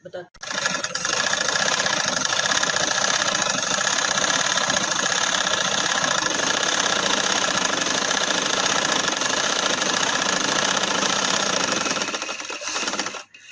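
A sewing machine stitches a seam along a party-wear dress, a steady fast whirring run that holds for about twelve seconds before stopping, close and loud.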